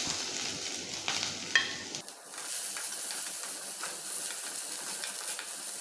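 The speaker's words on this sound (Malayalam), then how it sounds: "വെളിച്ചെണ്ണ ചൂടായ ഇതിലേക്ക് നമുക്ക് സവാള അരിഞ്ഞ് വെച്ചത് ഇട്ട് കൊടുക്കാം" Chopped onions drop into hot coconut oil with a few clattering knocks, then a steady, bright sizzling hiss fills the rest of the moment.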